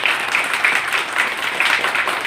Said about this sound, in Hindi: उनके लिए जोरदार ताली होनी चाहिए